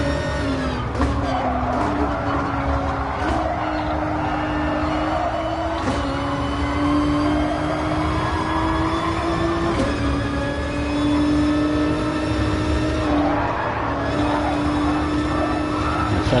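Toyota Supra race car in Gran Turismo Sport at Kyoto Driving Park, its engine droning and revving steadily through gear changes, with tires squealing through corners, loud and continuous.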